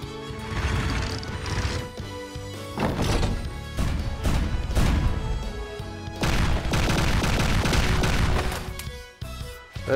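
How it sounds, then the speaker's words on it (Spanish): Loud, dense battle sounds from the video game Grand Kingdom, with repeated heavy cannon shots and crashing impacts in a near-continuous barrage under game music, easing briefly before the end. "Eso sí se come un cañonazo"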